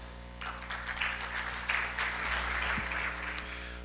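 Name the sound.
applause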